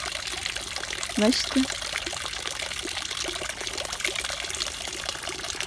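Water streams and trickles steadily outdoors in Switzerland, a constant close pouring wash, while someone speaks briefly over it.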